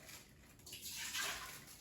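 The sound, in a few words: pouring cup of water into Instant Pot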